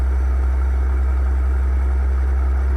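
A Peterbilt 281/351 truck engine idles in American Truck Simulator, a loud, steady low rumble that holds constant throughout with no talking over it.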